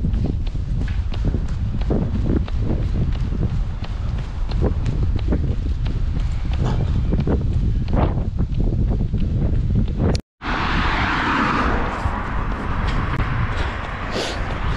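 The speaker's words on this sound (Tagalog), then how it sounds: "lakas ang hangin" Steady running footsteps pound in a fast rhythm while a strong wind rushes and buffets the microphone throughout, on an outdoor run in Australia, with a short break before the gusting swells louder.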